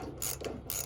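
A ratchet clicks as screws are snugged into aluminum on a Bimini top mount for a GatorTail 1754 boat, giving two short bursts of close, crisp pawl ticking separated by a pause.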